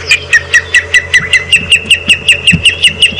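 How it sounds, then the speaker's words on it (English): A Wahlberg's eagle, heard during a morning safari drive at Djuma Game Reserve, gives a loud, close call: a fast, steady series of sharp, high, repeated notes, about fifteen in quick rhythm. "I think that it was a Wahlberg's eagle that we were hearing"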